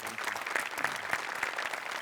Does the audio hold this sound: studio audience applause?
yes